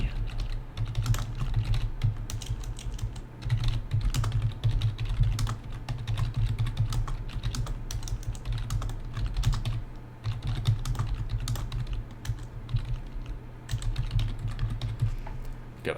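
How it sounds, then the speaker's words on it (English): Steady typing on a computer keyboard while entering website text, a continuous run of close key clicks with brief pauses, no talking. "we can just highlight it and start typing on our own"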